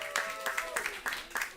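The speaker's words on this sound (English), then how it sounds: "Give her a round of applause." Brief scattered clapping from a panel audience at a Climate Week NYC food and health event, a few sharp claps over about two seconds with a voice talking over them.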